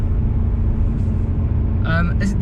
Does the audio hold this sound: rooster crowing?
no